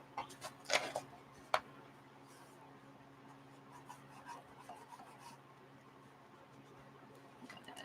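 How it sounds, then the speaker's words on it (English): Pictures and postcards are rubbed off tape on an art journal page, with faint close scuffing and a few light taps early on, over a quiet background. "that rubs right off of the tape"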